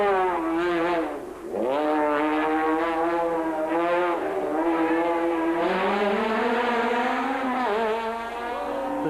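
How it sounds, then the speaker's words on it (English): Engine of a BP Volkswagen Polo rally car at full throttle during the Cape Rally, loud and close, revving up and down through repeated gear changes with a brief dip early on. "Habich wasn't giving up and pushed his BP Volkswagen Polo to the limit"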